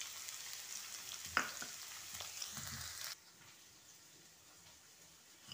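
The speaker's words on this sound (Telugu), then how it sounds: "తర్వాత క్యాప్సికమ్ ముక్కలు వేయించుకోవాలి." Capsicum pieces frying in hot oil for an aloo capsicum curry, sizzling steadily at close range with a brief stirring clink, then quieting to a soft low hiss for the last couple of seconds.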